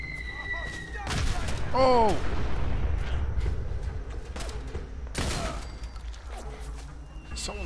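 Heavy gunfire and explosive booms in the video game Fallout 4, bursts of shots and deep blasts from Fat Man nuke launchers rolling in from a distance over a shifting game soundscape, with a voice speaking over parts of it.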